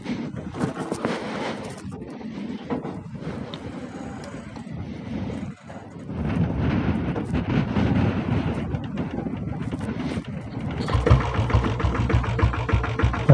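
Company diesel 7.5 HP Bullet motorcycle engine running during a ride, a steady low rumble with wind noise throughout, growing louder and fuller in the last few seconds.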